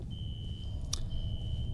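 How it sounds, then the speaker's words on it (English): Fire alarm in the shooter game F.E.A.R. sounds as a steady high electronic tone held through the moment, with one short sharp click cutting in, over low rumbling ambience. "some mysterious person set off the fire alarm"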